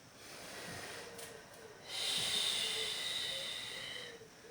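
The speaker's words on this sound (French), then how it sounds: "J'expire sur la montée." A long, steady breath is pushed out while rising during a Swiss ball exercise: a soft breathy hiss that swells partway through and holds before fading, close and fairly quiet.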